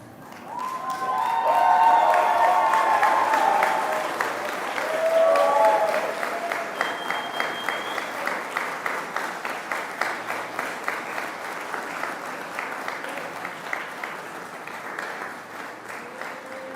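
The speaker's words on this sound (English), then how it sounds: "make sure you cheer even louder than they did" Graduation audience at a civil, environmental engineering and earth sciences undergraduate ceremony applauds and cheers loudly in a sustained roar, then thins into steady rhythmic clapping with a few scattered voices.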